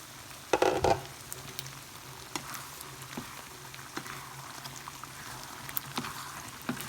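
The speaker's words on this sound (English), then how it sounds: "I'm going to cover the dish and lower the heat and cook it for 5 more minutes." Lentil and ground beef curry cooks in a covered dish over low heat, giving a soft, steady bubbling sizzle with faint pops and a brief clatter near the start.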